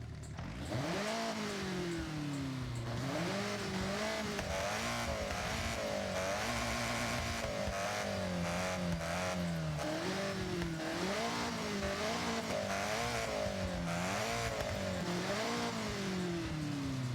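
An Opel Manta rally car in the racing game Forza Horizon 5 revs hard without a break, its engine pitch sweeping up and down through repeated gear changes, loud and close with no voices.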